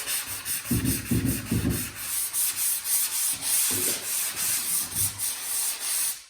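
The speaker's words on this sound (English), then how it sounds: "you can apply a little bit of heavy pressure while you're sanding the perimeter to get those any built up or ridges out" Sandpaper is worked back and forth under firm pressure around the edge of a drywall patch, a close rhythmic scraping of about a dozen strokes with no talk.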